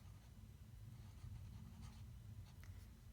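A fountain pen scratches ink swatches onto paper in soft, short strokes, close and very quiet over a low background hum, with no speech.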